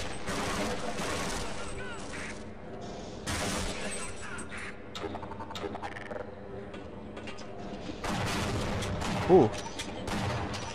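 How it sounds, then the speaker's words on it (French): Bursts of enemy gunfire from the video game Half-Life crackle in rapid volleys, loud and broadband, mixed with game noise while a man exclaims briefly. "Il me tire dessus!"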